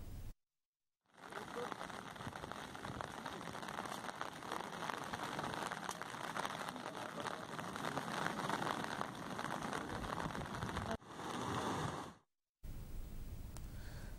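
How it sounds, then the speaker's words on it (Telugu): Heavy rain falls without pause, a dense, even hiss of drops on surfaces that fills the whole stretch and is cut by two brief silent gaps. "ఉదయం నుంచి ఎడతెరిపి లేకుండా కురుస్తున్న వర్షంతో"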